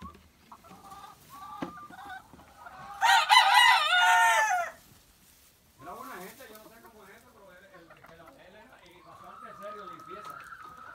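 A rooster crows loudly once, a long bright call standing out in the middle, while someone talks before and after it.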